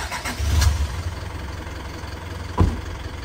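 A hydraulic service truck's engine has just started and settles into a steady low idle, close and loud, with a brief rev bump midway.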